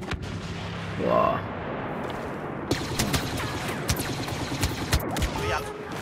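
Several sharp gunshots ring out in Star Wars Battlefront, a short burst of gunfire with scattered single shots following, under a steady background din.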